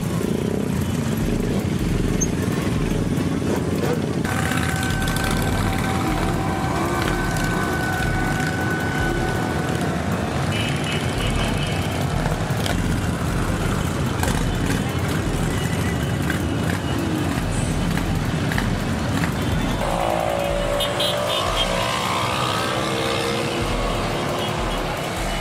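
A mass of motorcycles and other two-wheelers riding through city streets during a pilgrimage gathering, a loud continuous blend of engine drone and revving that persists throughout with no clear voices.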